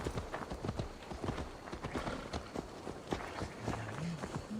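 A horse gallops in Assassin's Creed Valhalla, a quick rhythmic run of hoof thuds close by at moderate level, with someone talking quietly beneath it.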